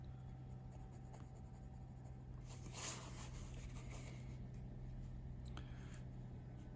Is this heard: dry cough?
no